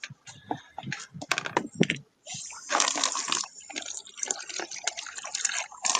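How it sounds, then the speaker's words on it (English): Water poured into a container to wet a chalcedony rock, a close, uneven splashing and trickling that follows several sharp clicks and knocks of handling at a table. "Let me get some water in this thing."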